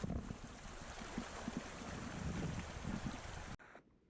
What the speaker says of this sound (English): I bet you never thought you'd hear water like this in the desert.